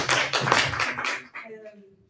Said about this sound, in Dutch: Mensen, een warm applaus voor de oncologie en de radiologie.